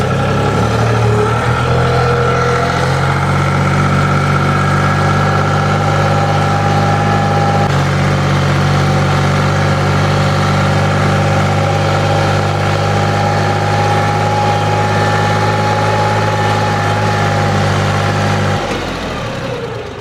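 A mini tractor engine runs at its lowest setting in first gear while discing a long-neglected field, holding a loud, steady, throbbing drone throughout before dipping slightly right at the end.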